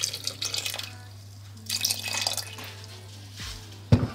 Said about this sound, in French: Je vais même ajouter un petit peu d'eau.